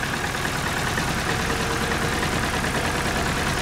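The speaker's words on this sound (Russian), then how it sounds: "Колбасит движок, троит." Daewoo Lanos engine idling rough and misfiring, a steady close mechanical rumble with uneven low throbbing running alone throughout.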